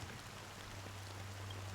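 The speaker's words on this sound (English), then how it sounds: "But it's still raining." Steady soft video game rainfall with a constant low hum beneath it, an even wash of patter with no voices.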